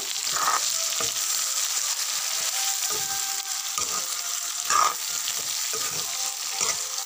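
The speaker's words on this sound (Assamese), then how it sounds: "আৰু কোমোৰা সিজিবলৈ আৰম্ভ কৰিছে" Steady sizzle of pumpkin frying in a pan, with intermittent scraping stirs and clinks of a utensil against the pan.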